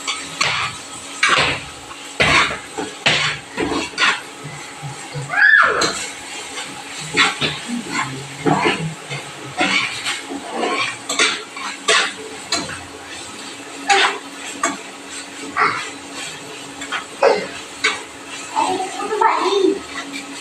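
Onions frying in a pan at a home kitchen, stirred with a utensil that clinks and scrapes against the pan in irregular strokes under a soft sizzle, close by.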